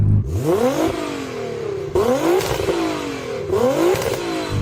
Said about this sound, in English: let's hear the 1000 horsepower car